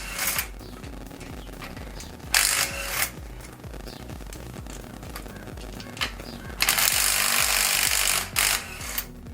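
Lug nuts come off a BMW wheel with a power tool, giving rapid rattling bursts and metallic clicks in uneven spells amid workshop clatter.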